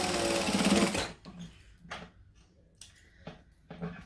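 A sewing machine runs a short, fast burst of stitching along a straight bag seam, followed by a few soft clicks and handling sounds in a quiet room.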